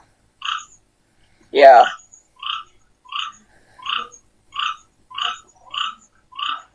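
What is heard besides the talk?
toad croaking outside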